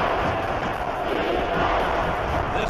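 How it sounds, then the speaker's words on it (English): A stadium crowd roars in an Ohio State vs Notre Dame college football video game simulation, a dense, steady wall of cheering that stays loud and unbroken throughout. "This crowd is almost shaking the stadium."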